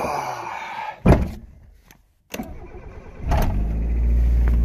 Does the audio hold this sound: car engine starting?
yes